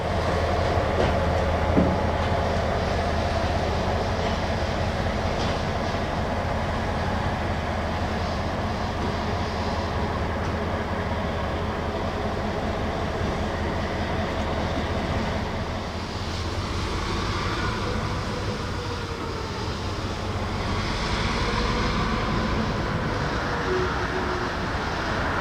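A freight train working near Berkshire Junction and New Milford rolls steadily along the rails with a continuous low rumble and wheel noise, heard at moderate distance for the whole stretch with no talking.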